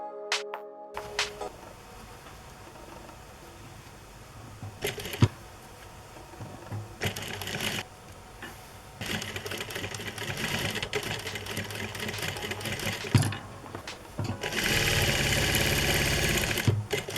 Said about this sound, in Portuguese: E costurar até a barra.